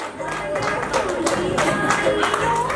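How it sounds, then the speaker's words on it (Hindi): Audience clapping steadily at a Gangaur group celebration program, a dense wash of many hands with a few voices mixed in throughout. "तालियां तो बजती रहनी चाहिए"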